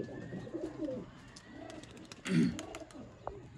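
Grey pigeons from Kuwait coo softly in a loft, several low, rounded warbling calls spaced through the moment, with faint background rustling and a sharp flutter near the middle.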